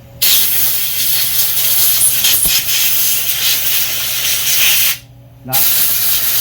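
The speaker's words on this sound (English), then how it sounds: "just blow off and just blowing some of the grease off of it." Compressed air hisses steadily as it blows grease off a part of a Craftsman push mower, loud and continuous for about five seconds, then cuts out briefly before the blast resumes.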